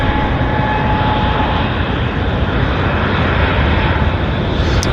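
Airliner jet engines at Vancouver International Airport spool up for takeoff, producing a loud, continuous, dense roar that stays steady and close for the whole stretch.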